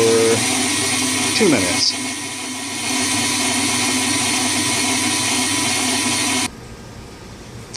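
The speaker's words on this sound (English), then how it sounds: "the KitchenAid mixer, this is a refurbished machine" A refurbished KitchenAid stand mixer runs on medium speed (level 4) beating cake batter, giving a steady whirring motor drone with a brief shift partway through. A voice speaks over it, then the motor drops to a quieter hum near the end.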